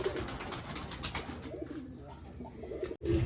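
A pair of Medappulli pigeons coo softly and repeatedly at close range, their low, throaty calls rising and falling with no voices present.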